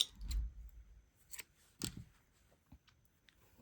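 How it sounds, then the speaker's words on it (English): Scissors snipping yarn during crochet work, a few quiet close-up clicks and cuts with short pauses between them in an otherwise silent room. "you're going to cut your yarn"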